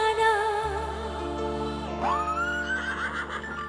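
A horse neigh sound effect plays during a live dangdut stage show, a loud, close whinny with a rising, wavering pitch over steady music and background hum.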